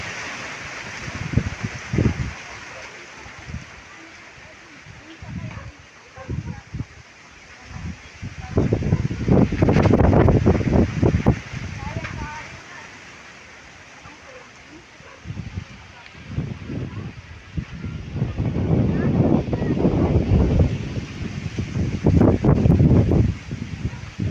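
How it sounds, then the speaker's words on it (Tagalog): Strong wind gusts outdoors where people cook over a fire, rising in loud surges near 9–13 s and 18–23 s, with buffeting on the microphone and calmer stretches in between. "Malakas ang hangin."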